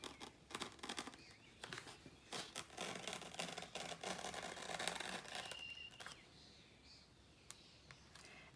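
Knife blade cutting through a Kaizen foam insert for a DeWalt DS130 Tough System case, giving close, soft scraping and crackling strokes in irregular bursts that thin out toward the end.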